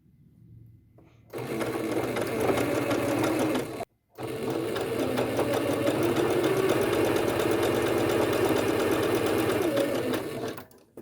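A sewing machine zigzag-stitches picot elastic onto lingerie fabric in two continuous bursts of rapid mechanical chatter, split by a brief pause near the middle, with no talking over it.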